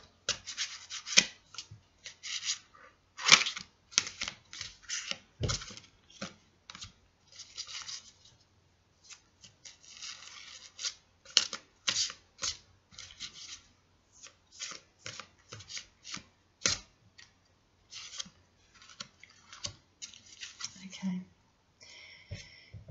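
Angel oracle cards are shuffled close up and quietly, a long run of soft riffling and rubbing swishes in irregular bursts with brief pauses, while someone speaks softly now and then.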